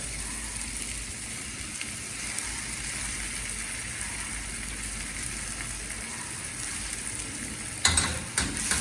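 Crushed lilva beans and mutton fry in a pan over a low flame with a steady, close sizzle, and a few louder stirring scrapes come near the end.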